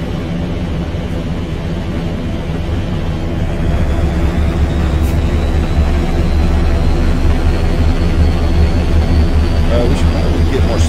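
A spaceship in the VR game No Man's Sky drones steadily with a jet-like engine hum that swells slightly louder partway through, one long continuous pass.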